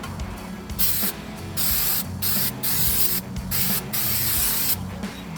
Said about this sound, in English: clean them off with brake clean in order to get all the glues and the oils left on from packing